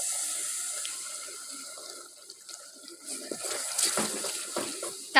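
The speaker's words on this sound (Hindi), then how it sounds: "इसलिए डालेंगे थोड़ा सा पानी" Water from a cup is poured into dry spices frying in hot ghee for a kari pakora curry in a village kitchen, giving a running splash and sizzle that builds toward the end, with no talking.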